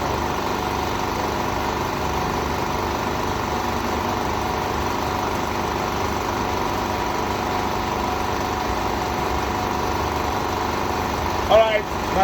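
Steady drone of a 1-horsepower window AC unit's compressor running during troubleshooting for poor cooling, a continuous mechanical hum throughout with a brief squeak near the end.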